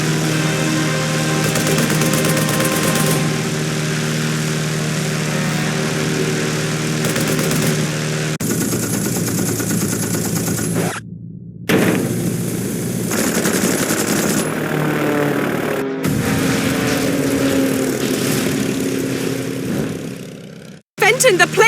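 A propeller airplane's engine drones steadily inside a Lost Horizon game scene, a loud sustained buzz that cuts out abruptly several times before resuming, ending with a sudden drop.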